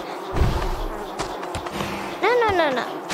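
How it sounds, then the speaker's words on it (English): Buzzing bees in the Wanba Warriors video game, a sweeping wavering drone rising near the end among thuds and game effects, with players talking over it. "Bad bees. Like, super bad bees."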